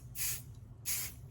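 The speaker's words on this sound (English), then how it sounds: "We're going to use adhesive spray." 505 adhesive spray from an aerosol can gives two short, close hissing bursts separated by a brief pause, set over a low steady background hum in a quiet room.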